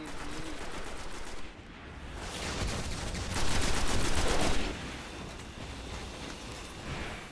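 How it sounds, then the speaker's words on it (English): Gunfire and a bazooka blast from a Destiny firefight at a portal: dense, rattling shots with a louder burst in the middle, over windy background noise. "I didn't kill the portal with my bazooka right here"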